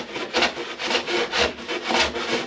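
A hand plane shaves down the wooden stringer of a surfboard in a steady rhythm, with five broad rasping strokes close by that each swell and fade, and no talking.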